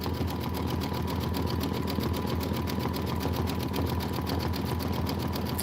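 A sewing machine runs steadily, stitching a Kimberbell Sweetheart Street bench pillow. It produces a loud, continuous, rapid whirring hum with a fine rhythmic needle pulse and no pauses or voices.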